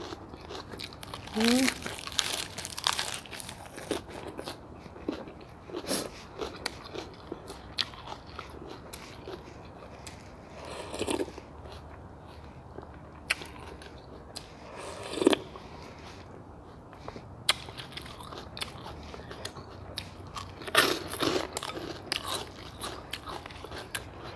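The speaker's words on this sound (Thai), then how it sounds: "ผักอันนี้ก็กรอบกับผักกาดหอม" Crunchy vegetables and lettuce being chewed along with pork noodles, sharp biting crunches coming in bursts, close to the mic, with soft talk between bites.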